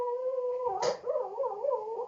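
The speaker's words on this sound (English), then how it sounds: "Oh, my dog is dreaming." A sleeping dog whimpers and moans in a dream, a thin wavering whine that rises and falls over about two seconds, interrupted by a short breathy snort, close and fairly quiet.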